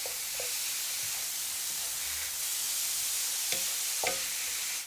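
Grated zucchini, carrots and garlic fry in a pan for a carrot zucchini stir fry, giving a steady close sizzle with a few brief clinks or stirring scrapes near the end.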